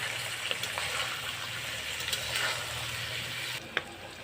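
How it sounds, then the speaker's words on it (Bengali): Boiled catla fish roe frying in a little light oil in a pan, giving a steady soft sizzle with faint crackles and one sharper pop near the end, no voices. "এবার একটু হালকা তেলে একটু ভেজে নেব"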